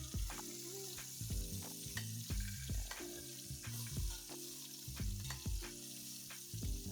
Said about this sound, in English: The heat is high right now, so we can get that nice sear.